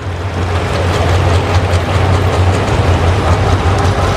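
A tractor engine roars at a tractor pull at the Sandwich Fair in Illinois, a loud, steady, droning rumble with a deep low hum that holds unbroken from start to finish.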